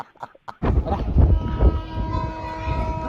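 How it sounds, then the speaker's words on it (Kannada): A train pulls away from a station, with a few faint knocks first and then a loud rumbling roll of wheels that builds up and holds steady, with a sustained horn-like tone joining in partway through. "ಇದು ಟ್ರೈನ್ ಅಂತೂ ಬಿಟ್ಟದ"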